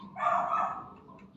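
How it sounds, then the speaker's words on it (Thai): A single short dog bark, close and fairly loud, followed by a quieter tail of sound. "มันเห่ามันหอน"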